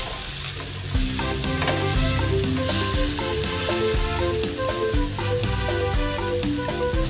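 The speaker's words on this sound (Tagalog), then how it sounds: "Tuloy ang gisa" Salt and pepper stir into a sautéing soup base in a pan, a steady sizzle running throughout beneath prominent background music.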